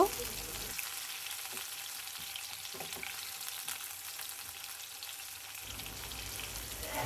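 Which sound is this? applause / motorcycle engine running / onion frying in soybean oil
onion frying in soybean oil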